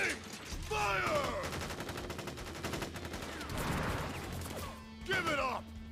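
Soldiers in Crisis Core: Final Fantasy VII fire a volley of gunfire, heard as rapid, dense bursts of shots through the middle section, framed by shorter shouted vocal sounds near the start and end.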